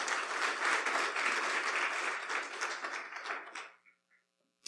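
A church congregation applauds during a Spanish-language sermon, a dense, loud burst of many hands clapping together that fades out over about four seconds into near silence.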